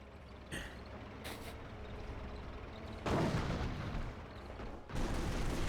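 Battle gunfire in Company of Heroes, US forces against Panzer Elite, with a rumbling ongoing exchange and a few sharper, louder bursts breaking through near the middle and end.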